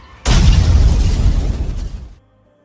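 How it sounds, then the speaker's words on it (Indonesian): A bomb goes off in an action film scene, a sudden, very loud blast with a deep rumbling roar that sustains for about two seconds before cutting off sharply. "ia mengeluarkan sebuah bom yang membuat polisi korup itu juga meninggoy"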